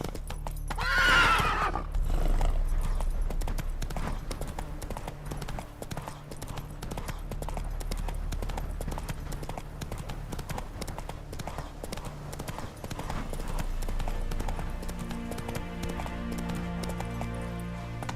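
A horse in the video game The Witcher 3 whinnies, then gallops in a fast, steady rhythm of hoofbeats that runs for many seconds against a low background rumble.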